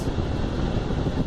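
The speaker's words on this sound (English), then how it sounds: "That's the sound of cold air." Car air conditioning blowing cold air through the vents after a blend door actuator replacement, a steady, even rushing hiss of airflow that holds constant throughout, close and moderately loud with no voices.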